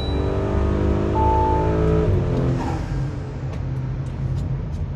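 An Audi B9 SQ5 3.0T with a front mount intercooler revs hard on a dyno, a loud rising engine pull that climbs steadily then drops off as the throttle lifts, with whine trailing afterward.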